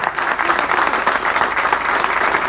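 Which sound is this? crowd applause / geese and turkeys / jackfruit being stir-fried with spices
crowd applause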